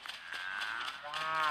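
A cow in the video game Lego Fortnite gives a loud, drawn-out moo, then a second rising moo right after, close and clear with no talking.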